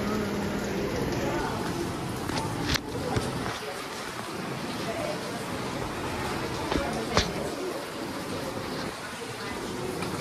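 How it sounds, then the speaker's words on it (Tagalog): Steady rain makes a continuous even hiss with a few faint taps and knocks, while voices murmur quietly underneath. "raining."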